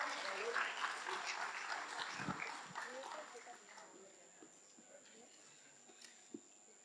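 A crowd's applause, fairly loud at first, gradually thins and fades out over several seconds, leaving a few scattered claps.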